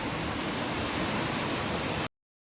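Monsoon rain pours down in a village setting, a loud, dense and constant hiss of falling water that cuts off abruptly near the end.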